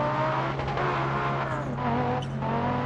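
An Audi Sport quattro rally car in DIRT Rally, on a Finland stage, keeps up a continuous loud engine drone, with brief tire scrubbing and skidding bursts layered over the steady roar.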